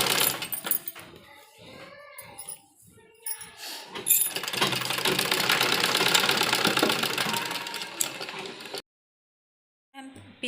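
An electric sewing machine runs steadily for several seconds, stitching the flared skirt panel of a young girl's umbrella frock, after speech at the start; it stops abruptly, with a brief sound returning at the end.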